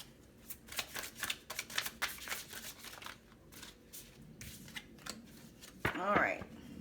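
Tarot cards are shuffled in quick, papery riffles and then drawn, with a sharper slap-and-slide of a card near the end, heard up close.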